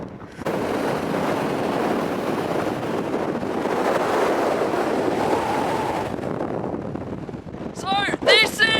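Strong wind buffeting the microphone on Conic Hill above Loch Lomond, a loud continuous roar for most of the clip before easing, with a person's excited voice near the end.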